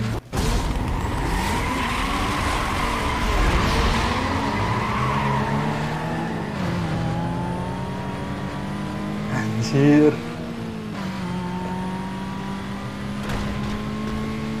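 Volkswagen Golf GTI racing in Need for Speed, with a loud, continuous engine drone that rises and falls, tires skidding and squealing, and a brief louder burst near the end, while someone talks over the game audio.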